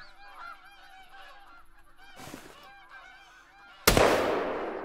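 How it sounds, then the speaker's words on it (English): A flock of Canada geese honks repeatedly, many overlapping calls at moderate distance during a goose hunt, with a sharp loud blast near the end that could be a gunshot. "And just in time for another flock of geese coming in here."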